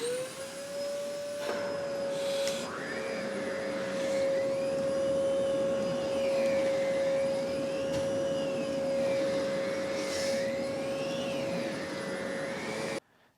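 A Zero G canister vacuum cleaner runs continuously under furniture, a loud steady motor whine with a fixed tone and whooshing swells as the nozzle moves back and forth, cutting off abruptly at the end.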